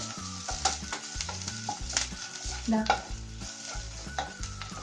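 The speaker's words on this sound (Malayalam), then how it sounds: "ഇനി ഇതിലേക്ക് കറിവേപ്പില ഇട്ട് കൊടുക്കാം." Curry leaves sizzle and spit in hot oil as a tempering for carrot raita, with a steady close crackle, light stirring and occasional utensil clinks throughout.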